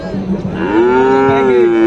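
A cow gives a long, drawn-out moo close by at a cattle market, rising then holding steady, with faint background chatter.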